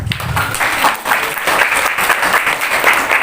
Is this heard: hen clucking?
no